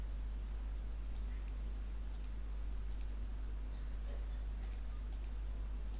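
Faint computer mouse clicks, often in quick pairs, spaced across a steady low electrical hum while working in Windows 11 settings, with no talk.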